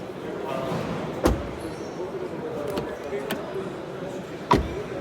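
A 2025 Volkswagen Tayron R-Line car door shuts with a solid thud, followed a few seconds later by a second closing thump, over steady background noise and faint talk.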